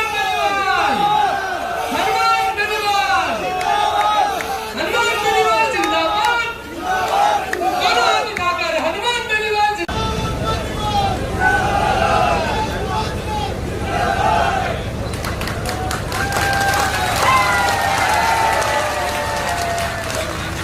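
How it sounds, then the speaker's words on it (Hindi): Crowd at a Rashtriya Loktantrik Party farmers' rally in Dungargarh cheering and shouting slogans for Hanuman Beniwal's convoy, then applauding; loud, sustained chanting and roaring voices over vehicle noise, shifting into thick clapping and cheers. "जोरदार तालियों के साथ बड़ी माला में अपनी भागीदारी निभाएं।"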